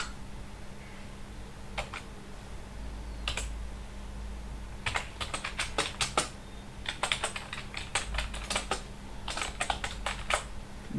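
Python code is typed on a computer keyboard in quick, uneven bursts of crisp key clicks with short pauses between them, over a faint steady electrical hum. No voice is heard.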